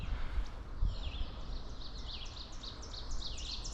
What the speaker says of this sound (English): Sounded like a yellow warbler, but it could have been a waterthrush.